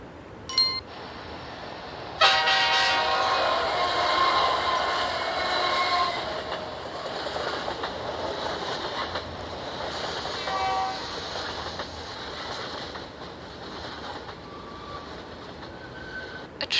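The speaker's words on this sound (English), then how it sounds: "A train is a line of railway carriages that are pulled along a track by an engine." A train runs along a railway track with a steady rumbling roar and metallic rattle, holding loud and close throughout.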